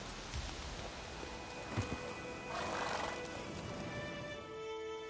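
Roach, Geralt's horse in the video game Witcher 3, whinnies and trots, with a neigh and clip-clopping hooves over a soft outdoor ambience with faint rain.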